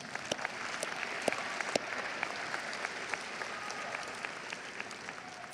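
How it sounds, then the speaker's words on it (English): An audience at an Olympic High School event claps for teachers and staff, steady applause from a moderately distant crowd with a few sharper individual claps standing out throughout. "Let's give them a hand clap"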